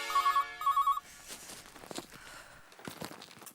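A telephone rings twice in quick electronic bursts, then stops, followed by soft shuffling and movement nearby.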